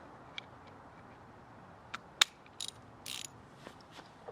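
A ratchet fitted with a spark plug socket loosens the spark plug on a lawnmower, giving a few faint, scattered clicks and ticks in an otherwise quiet setting.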